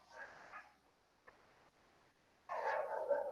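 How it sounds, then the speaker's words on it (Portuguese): A neighbour's dogs bark at a distance, a few faint yelps followed by a louder burst of barking, heard in a quiet room. "Olha o vizinho, a cachorrada do vizinho aí começou."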